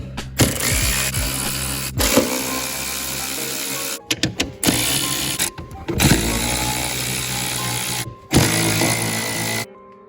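A ratchet works loose the bolts on the rear coilovers of a widebody Dodge Neon SRT4, clicking in rapid bursts with short pauses between, close up in a garage.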